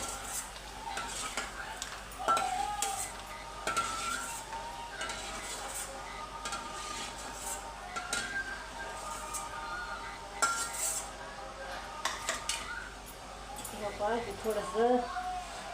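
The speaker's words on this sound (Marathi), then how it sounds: "आणि थोडंसं खोबरं भाजूया" Grated coconut being roasted in a pan, stirred with a utensil that scrapes and clinks against the metal in irregular strokes, with light frying sizzle and a voice talking over it.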